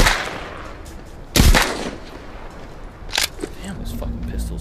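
Pistol shots in the video game The Walking Dead Saints and Sinners: two sharp, loud gunshots a couple of seconds apart, with someone talking faintly between and after them.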